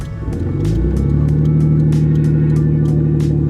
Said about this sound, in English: That's a cold start, dude.